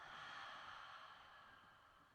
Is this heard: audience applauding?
no